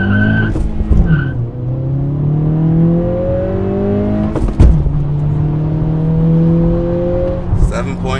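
A 2023 Acura Integra pulls hard through a 0-60 launch, engine pitch climbing steadily then dropping briefly at a gear shift before rising again, loud and close from inside the cabin, with a brief tire chirp near the start.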